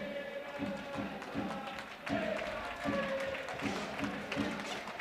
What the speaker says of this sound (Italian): Applausi intanto per Martinez che è riuscito a tenere pallina